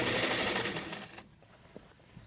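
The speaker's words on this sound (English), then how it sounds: "Moving on to the lining and continuing to manipulate this seam, these raw edges, to just keep sewing." A sewing machine stitches a lining fabric seam with a loud, steady, close mechanical whir for just over a second, then stops, leaving a few faint handling taps.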